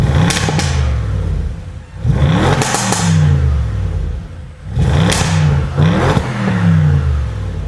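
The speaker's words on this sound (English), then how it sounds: "I'll switch into dynamic to check out how it sounds." An Audi RS6 Performance engine in dynamic mode revs hard in several bursts, each rising sharply and falling away, with crackles and pops on the overrun, loud and close with no talk.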